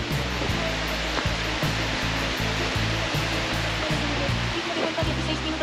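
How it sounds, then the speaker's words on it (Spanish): Water rushes steadily along the Camino del Norte between Mondoñedo and Abadín, a continuous, fairly loud broadband hiss from start to finish, with a faint low thumping rhythm underneath. "¡Qué bonita que es el agua, Dios mío!"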